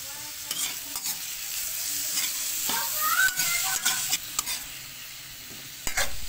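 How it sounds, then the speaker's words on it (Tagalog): Onion and garlic sauté in oil in a pan, a loud steady sizzle with intermittent sharp stirring scrapes and clacks of a utensil, close and without talk. "Kasi igisa yung mga ano, sibuyas, ahos."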